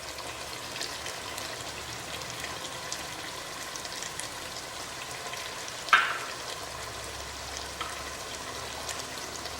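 Chicken frying in a pan for palak chicken curry after yogurt is added, a steady soft sizzle with faint crackle throughout and one brief clink of a utensil midway.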